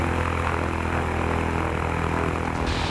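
A propeller airplane flies over the Black River and Pocatello River area of coastal Carolina, its engine drone steady, loud and close throughout, a dense continuous roar with no voices.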